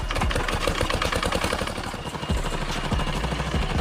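A Massey tractor's engine runs with a dense, rapid chugging and clattering throughout, loud and steady, with no voices over it.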